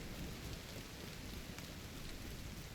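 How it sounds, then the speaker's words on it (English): Heavy, dense rain pours steadily in The Division 2 video game, a thick continuous wash of drops with low rumbling underneath, constant and unbroken throughout. "this is some thick-ass rain with some limited visibility"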